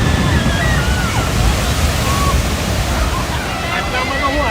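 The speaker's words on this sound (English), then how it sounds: "We'll see if we can get a big splash this time." Water ride at Islands of Adventure theme park splashing down, a loud continuous rushing wash of water and spray close by, with voices talking over it.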